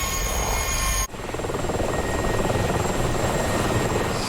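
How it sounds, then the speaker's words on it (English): Helicopter rotor in a DCS combat flight simulation of a 1986 French operation in Chad, a steady loud thudding chop that starts abruptly after a brief burst of other engine noise and continues close and constant. "I was busy watching helicopters"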